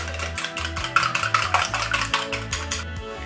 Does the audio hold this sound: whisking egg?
yes